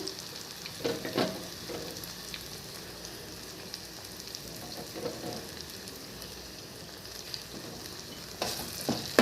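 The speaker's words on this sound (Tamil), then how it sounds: "போட்டு நல்லா கிண்டிக்கலாம்" Sambar powder and turmeric stirred into frying masala for thorny nightshade gravy, a soft steady sizzle with intermittent scraping stirs of a spoon against the pan, one louder near the end, no speech.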